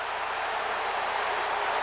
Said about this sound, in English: Crowd on the Auburn side hooting for a grounding call as Spikes came firing through